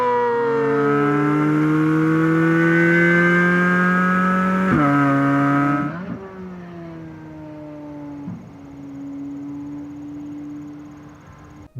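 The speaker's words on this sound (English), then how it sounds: "And the Z06 Corvette exists. It offers you one of the most exotic sounding sounds at its price point" Chevrolet Corvette Z06 engine revving hard with a high-pitched, rising exotic wail that climbs steadily, then drops off and settles into a lower sustained drone, loud and close with no talk.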